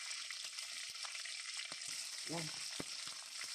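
Onion sizzling in a pan with peppercorns while cooking adobo, a soft steady frying hiss with a few faint stirring clicks and a brief murmured word.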